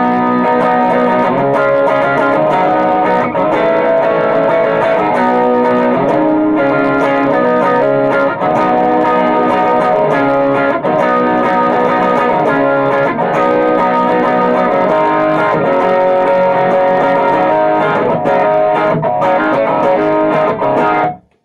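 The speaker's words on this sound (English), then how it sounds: "Just, fattens everything up, gives a nice, range of distortion." Electric guitar driven through an EHX East River Overdrive pedal, thick distorted chords ringing continuously and loud, with shifting notes and a final cutoff at the end.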